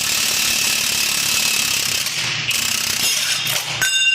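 A ratchet wrench clicks rapidly and steadily while loosening the small 8 mm rear caliper bolts on a B5 Audi A4, loud and close, a dense mechanical chatter with brief pauses near the end.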